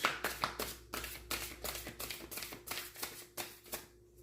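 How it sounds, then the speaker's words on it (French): Tarot de Marseille cards, a gilded deck, are shuffled by hand in a quiet room, a soft close riffling with regular slapping pulses repeating about twice a second, then stopping. "je vais aller tirer le tirage avec le tarot de Marseille"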